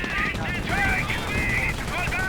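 Rapid gunfire from a Panzer Elite half-track in the Company of Heroes World War II strategy game, a dense continuous rattle of shots with battle noise throughout, loud and steady across the whole stretch.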